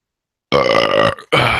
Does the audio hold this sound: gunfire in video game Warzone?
no